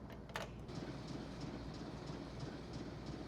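A moving train in the game Nancy Drew: Last Train to Blue Moon Canyon, a steady low rumble of wheels and carriage noise, constant and fairly quiet.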